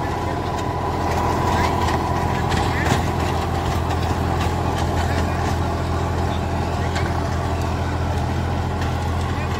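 A three-cylinder 40 hp 405 tractor pulls a 7-foot rotavator through a field, giving a steady low engine drone and a continuous churning rumble, with voices talking over it.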